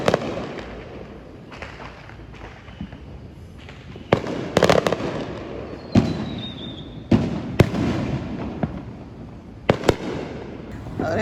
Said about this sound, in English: I'm about to go outside and catch some of them fireworks